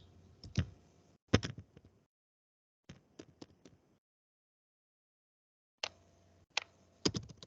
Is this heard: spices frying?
no